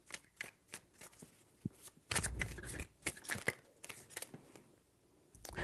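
A deck of tarot cards is shuffled close by, with quick riffling bursts and crisp flicks and taps repeating in an uneven rhythm.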